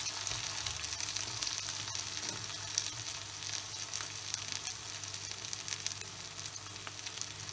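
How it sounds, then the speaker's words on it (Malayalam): Pepper chicken with coriander leaves roasting dry in a pan makes a steady, quiet, crackling sizzle that carries on unbroken, with no voices over it. "ലാസ്റ്റ് മല്ലിയിലൊക്കെ ഇട്ട് ഒന്നുകൂടി ഇത് റോസ്റ്റാക്കി എടുക്കാം"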